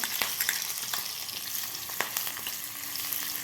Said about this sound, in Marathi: आता आपल्याला व्यवस्थित हे फ्राय करून घ्यायचं आहे